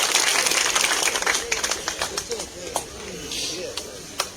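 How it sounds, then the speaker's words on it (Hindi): A village rally crowd clapping in welcome, a burst of many hands at first that thins to a few sharp isolated claps, with voices in the background. "जोरदार तालियों के साथ स्वागत।"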